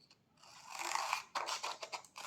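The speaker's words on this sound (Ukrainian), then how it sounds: "Ножицями будемо різати прямі лінії." Scissors cut paper in a quiet craft setting, a close, brisk series of snipping and rasping strokes that swell and break off in short bursts, with no talking.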